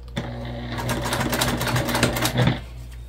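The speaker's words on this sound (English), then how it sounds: "So we're just going to go ahead and sew on our binding at a slightly smaller seam allowance than we used to finish our pouch." A sewing machine stitches binding onto a fabric pouch in one continuous, steady run of rapid needle clatter, close and fairly loud, with no pauses.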